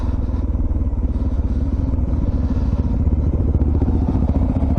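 Off-road vehicle engine rumbling and revving in first gear while riding through sand at Little Desert National Park, loud and close with a steady pulsing throb and rattling clatter, no talk.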